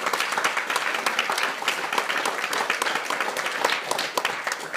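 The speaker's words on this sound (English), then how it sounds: "I'd like for you give a round of applause to Daniel Abernathy" A church audience at a Christmas play applauds with continuous, lively clapping from many hands, close and fairly loud for the whole stretch.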